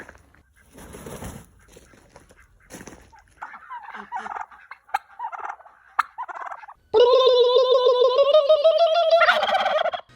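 Free-ranging turkeys gobble loudly and close, a strong burst of repeated rattling calls following a stretch of quieter rustling and scattered noises.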